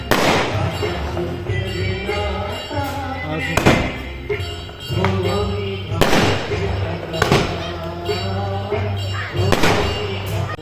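Firecrackers burst at a village send-off, loud sharp cracks and thumps repeating irregularly about every two seconds amid ongoing crackle, with voices talking underneath.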